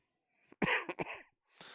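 A man with a bad cold coughs and clears his throat in a few short, hoarse bursts close to the microphone, with a brief rough exhale trailing after a pause.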